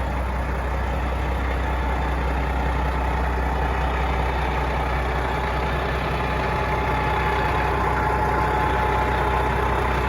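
A Freightliner FLA cabover truck with a Detroit engine idles steadily and close by, a continuous low diesel rumble with no break for the whole stretch.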